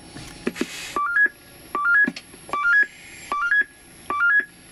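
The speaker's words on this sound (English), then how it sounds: "this is the alarm signal, which is being tested" Repeated bursts of rising electronic beeps from a locomotive alarm signal under test in a depot, four or five short ascending tone sequences at steady intervals, loud and close with faint background noise.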